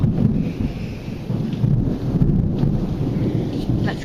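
A thunderstorm rumbles with low thunder and gusts of wind buffeting the microphone, heard from inside a garage, with a brief voice over the steady roar.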